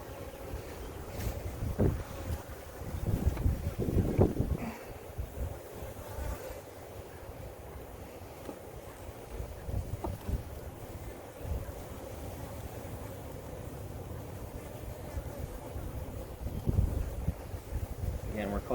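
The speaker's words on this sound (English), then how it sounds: "It is really windy all of a sudden." Strong gusty wind buffets an open beehive outdoors, rumbling in uneven bursts of low roar against the microphone, with louder surges near the start and end.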